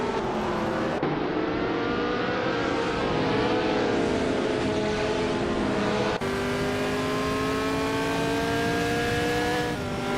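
Several race cars in a racing video game roar continuously, engine notes rising through the gears with abrupt shift drops, one car close and loud, others blending behind at steady volume.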